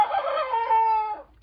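A rooster crows once, a long harmonic call rising and holding before trailing off, loud and close.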